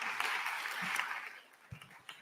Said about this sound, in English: that deserves your applause.